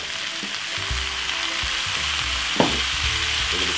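Saltfish frying with soy sauce while being stirred gives a constant loud sizzle over a low mechanical hum, with rattling scrapes and one sharp clatter of a utensil against the pan, and no voices.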